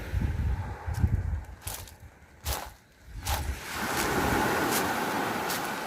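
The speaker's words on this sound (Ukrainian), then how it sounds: "таке сьогодні гарне море" Tyrrhenian Sea waves wash and break steadily on an Italian shore, a broad rushing surf with wind buffeting the microphone and no voices.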